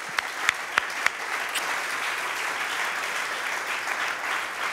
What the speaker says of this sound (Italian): Tu qui devi fare un applauso a tua moglie.